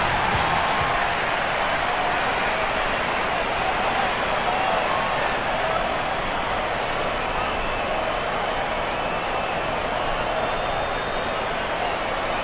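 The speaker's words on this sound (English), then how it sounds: "Gold Coast lifted by the noise of the crowd as they make their way onto the ground." A stadium crowd roars in the AFL Evolution video game as Gold Coast runs onto the ground for a match against Melbourne, a steady, dense wash of cheering that fills the whole stretch without a break.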